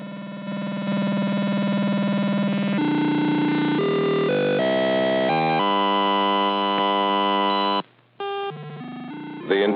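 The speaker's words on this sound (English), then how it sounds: "The entire musical score accompanying this film was composed on a computer that can produce nearly endless variations of sounds" Computer-generated electronic music from a 1968 computer plays as a continuous stream of buzzy, distorted synthetic tones that change pitch in blocks, loud and steady, with a brief dropout near the end.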